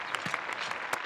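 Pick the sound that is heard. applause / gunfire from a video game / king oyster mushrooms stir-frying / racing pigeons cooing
applause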